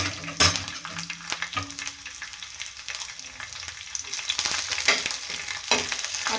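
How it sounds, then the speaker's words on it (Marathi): Ginger, garlic and green chili fry in a generous amount of oil for a dhaba-style egg curry, giving a continuous close sizzle with occasional stirring clatter. "आता मी तेल आहे थोडं जास्तच टाकते आणि ह्याच्यामध्येच आलं, लसूण आणि हिरवी मिरची सगळं एकत्र भाजून घेते"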